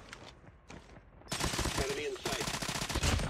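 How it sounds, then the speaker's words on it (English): Rapid gunfire bursts in a shooter video game, loud automatic volleys starting quietly then erupting into dense sustained firing, with game sounds and a faint voice mixed in. "Figured that gun would be suppressed."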